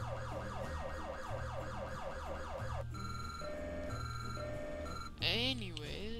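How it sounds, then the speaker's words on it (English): Police car sirens in the Roblox game Southwest Florida wail continuously, cycling through several tones and a rapid yelp pattern near the end, loud and steady over a low engine drone. "Here's also the sirens."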